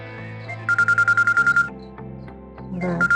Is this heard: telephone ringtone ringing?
yes